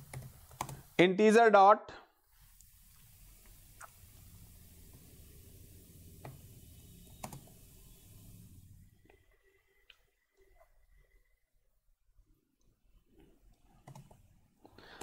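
Keys on a computer keyboard clatter softly while Java JDBC code is typed, a low steady patter beneath a voice talking, after a brief louder burst of speech at the start.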